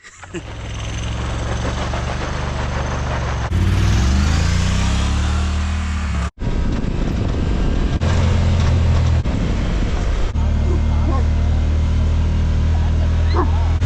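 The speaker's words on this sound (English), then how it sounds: "Guard dog." A guard dog barks and whimpers at a mountain property, heard over a loud, continuous off-road vehicle engine and road noise, with a brief dropout partway through.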